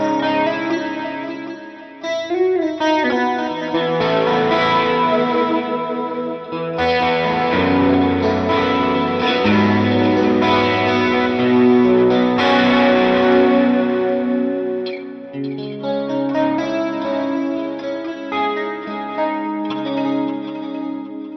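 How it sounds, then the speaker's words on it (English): Electric guitar played through a Line 6 Pod Go with a chorus effect, shimmering wavering chords and melodic lines with a slight drive, close and continuous with no talk. "sometimes I'll use a chorus, and when I do, this is how I have it set up"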